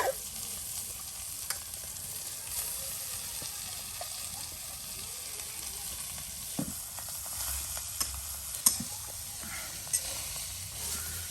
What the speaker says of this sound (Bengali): শাকগুলো তেলের সাথে আপনার উলট পালট করে নিলেই একদম ভাজা ভাজা হয়ে যাবে